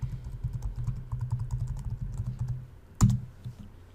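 Rapid, close keystrokes tap on a computer keyboard in a quick irregular rhythm, ending with one louder key press near the end; no talking.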